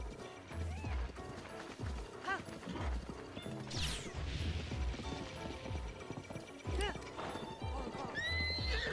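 A video game horse gallops with steady clip-clop hoofbeats and neighs sharply several times, a stolen wild horse moving loud and close through a castle area amid busy game effects.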